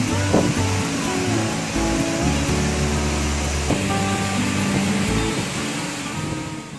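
Kaeng Nyui waterfall near Vang Vieng, Laos, roars in a constant broad rush, with low engine-like hum and tonal background sounds layered over the water.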